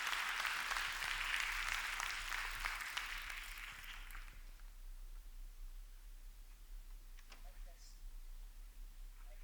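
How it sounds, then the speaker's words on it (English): An audience claps to welcome a speaker, loud and dense at first, then thinning and fading out after about four seconds into quiet room noise with a few faint stray sounds. "if you'll join me in giving him a nice, hearty round of applause"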